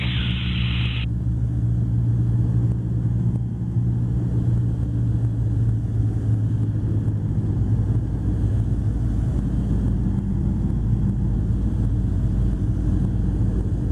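A Spitfire aircraft's engine drones as a loud, steady, close rumble with wind buffeting, throttled back and holding a low, even tone.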